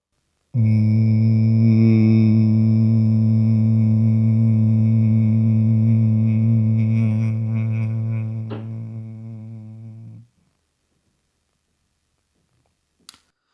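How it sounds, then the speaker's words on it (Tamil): A single long, steady nasal hum made while exhaling during a slow breathing exercise. It holds for about ten seconds, slowly fades, and ends in silence broken by one small click. "இந்த ஹம்மிங் சவுண்டோட வெளியே விடணும்"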